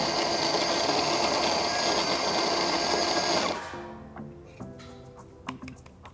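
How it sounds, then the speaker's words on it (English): The built-in grinder of a La Specialista Touch espresso machine grinds coffee for a double shot, a loud steady whirring buzz for about three and a half seconds that cuts off, followed by a few light clicks and taps. "Now we're grinding for our double shot again."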